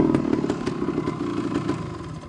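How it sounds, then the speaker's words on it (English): A 1974 Yamaha DT250 Enduro motorcycle engine running steadily nearby, a buzzing, rattly mid-pitched drone with small rapid fluctuations and no pauses. "this is a world-class Yamaha DT250 Enduro"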